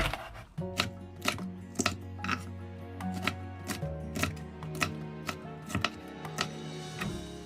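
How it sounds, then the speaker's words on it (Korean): Knife chopping red chili peppers on a cutting board for young radish water kimchi, a steady series of sharp close taps with a tonal hum underneath, no speech. "그래서 홍고추 썰어 보겠습니다."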